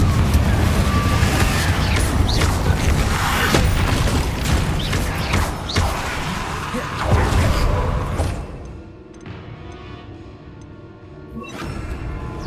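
A Confringo blasting spell in the video game Hogwarts Legacy sets off a string of loud, booming explosions and crashing impacts in dense succession, fading to a quieter tail with one more burst near the end.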